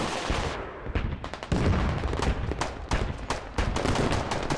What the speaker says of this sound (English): the final explosions from the vehicles pop off